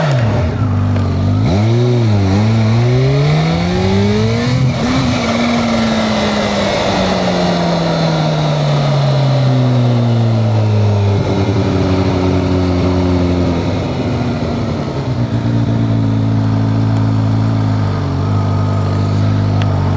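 Powerful BMW motorcycle engine running in a supermarket car park, revving repeatedly with rising and falling pitch sweeps over a steady loud idle, close and continuous with no talk.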